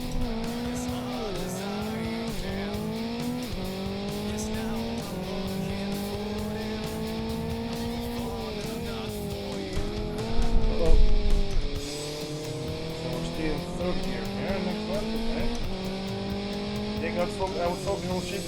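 A Formula XR race car engine in Live for Speed drones and revs around Aston Cadet circuit, its pitch rising and dropping through gear shifts, with brief tire squeal and a voice at times.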